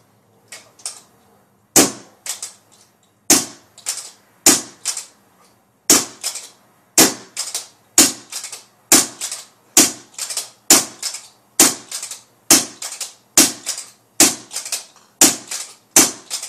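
CCM J2 pump paintball marker firing Ultra Evil paintballs from a 5045 Ninja air tank: about twenty sharp, loud cracks in a fast, steady rhythm, each shot with a short snap, no talking.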